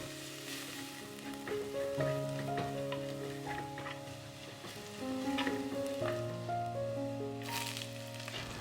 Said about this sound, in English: Heat 3 tablespoons of coconut oil in a pot. Saute 2 teaspoons of the ginger garlic paste till the raw smell goes.